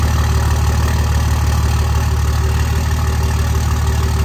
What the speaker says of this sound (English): So I'm going to start this one up and get this thing started